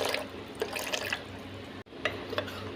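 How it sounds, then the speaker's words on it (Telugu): Water poured into soup powder and stirred with a spoon, giving close liquid swishes and splashy mixing strokes in uneven bursts, with a brief pause near the end and no talk. "దీనిలో కొంచెం వాటర్ వేసుకుని కలుపుకుందాం"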